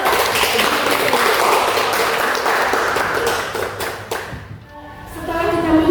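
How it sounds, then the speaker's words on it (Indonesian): Schoolchildren clapping in a classroom during a lesson, a dense, loud burst of many hands that continues for several seconds and then breaks off abruptly, after which a brief tonal sound follows. "tepuk tangan dulu"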